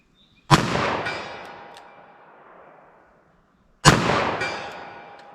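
Two loud gunshots from a .44 Special revolver fired at a target 75 yards away, each a sharp blast with a long reverberating tail, spaced about three seconds apart.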